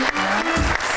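Studio audience applause on a Pakistani comedy talk show, a loud continuous wash of clapping from many people, with a host's voice briefly heard over it.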